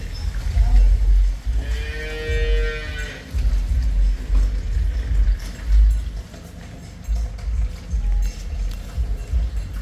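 A cow lets out a long, loud moo, then quieter lowing from a calf follows amid farmyard rumble and a few voices talking nearby.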